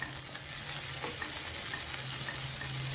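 Capsicum fry is stirred in a covered pan, giving a steady, close sizzle with faint scraping under it and a low hum throughout, no voices.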